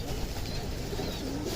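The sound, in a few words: homing pigeons cooing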